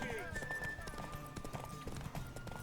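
A horse gallops in The Witcher 3 video game, its hooves a quick run of faint, rhythmic clip-clop beats in the background.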